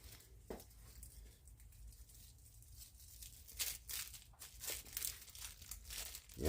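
Soft plastic packaging crinkles and tears as new rocker trunnions for an LS engine are unwrapped, the faint close-up rustling growing busier toward the end.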